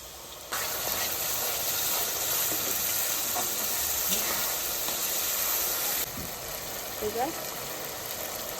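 Spices with ginger, garlic, cumin, and green and dried chilli fry in a pan, giving a steady broad sizzle and hiss that drops slightly partway through, with someone talking over it.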